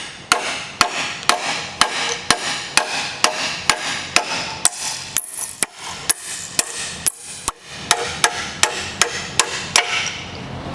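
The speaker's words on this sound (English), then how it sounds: "All you need is a hammer to drive the pin out." Steel hammer striking a punch to drive a roll pin out of a post driver, about twenty sharp metallic blows in an even, steady rhythm, loud and close, with no speech.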